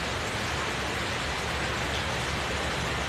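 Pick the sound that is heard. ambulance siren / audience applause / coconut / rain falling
rain falling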